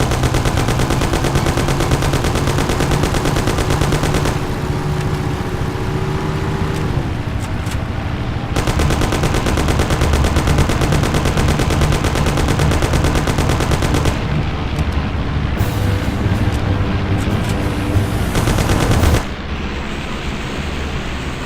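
Sustained loud gunfire in the Mafia: City of Lost Heaven video game during a car chase, rapid shots packed into a dense, unbroken roar with engine noise beneath, dropping back briefly near the end.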